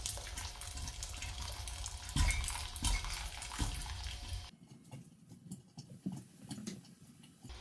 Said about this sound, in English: we'll take these jars out and very carefully empty the hot water out of them